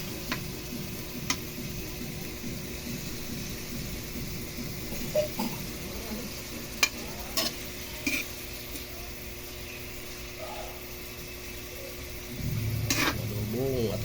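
Chicken gizzards fry with garlic and onion for an adobo, a continuous soft sizzle in a pan broken by scattered clinks and taps of a utensil against the pot, louder near the end.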